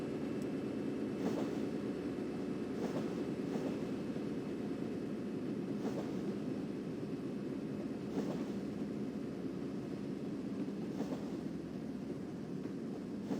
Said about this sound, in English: This is the yard move to get those empty cars to the Roseburg intermodal ramp on the far south end.